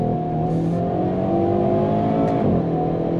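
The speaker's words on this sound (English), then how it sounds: "And let's accelerate out of this corner here." A 2022 Hyundai Kona N performance SUV accelerates out of a corner, its engine droning steadily and rising in pitch before a quick upshift dip near the end, loud and heard from inside the car.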